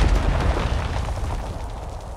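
A heavy, rumbling explosion from a mortar strike in the Call of Duty video game booms and then decays into a long low roar, loud and close, with no talk.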